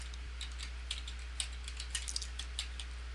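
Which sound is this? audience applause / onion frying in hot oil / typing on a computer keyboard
typing on a computer keyboard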